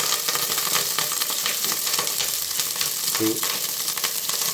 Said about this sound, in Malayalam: അരിവ് ഇതൊന്ന് ചെറുതായിട്ടൊന്ന് വറുത്തെടുക്കുക.